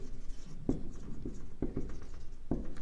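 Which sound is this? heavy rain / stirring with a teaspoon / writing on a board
writing on a board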